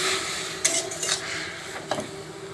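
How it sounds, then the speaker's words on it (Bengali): Greens with a pinch of soda being stirred in a pan, a spoon scraping and clinking against metal in a few brief strokes over a steady low hiss, close and fairly quiet. "এবার নেড়ে চেড়ে নেব"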